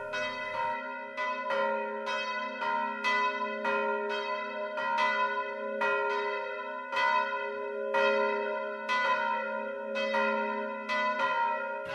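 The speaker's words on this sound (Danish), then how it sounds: "at klokkerne ringer på de rigtige tidspunkter" Several church bells ring from a tower on an automatic system, overlapping strikes repeating steadily with long humming resonance, loud and close with no voices.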